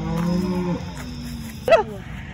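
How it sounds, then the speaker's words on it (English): A cow moos loudly from a herd of cattle outdoors, one long low call that breaks off, followed by a brief higher bellow a moment later over a steady background hum. "there's a bunch of cows and junk up there"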